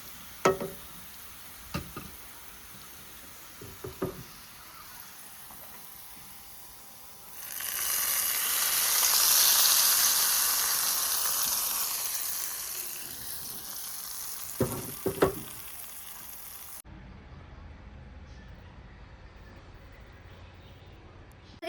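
Hot tempering poured into a mango pulissery curry bursts into a loud sizzle that swells, holds for several seconds and slowly fades, set between a few sharp clanks of cooking utensils.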